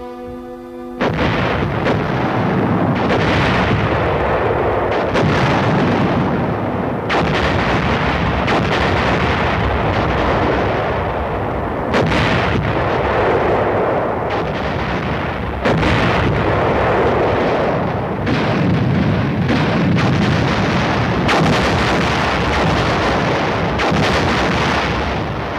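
Korean War artillery barrage of field guns firing in rapid succession, heavy booming blasts and rumbling reports overlapping continuously, loud and dense throughout.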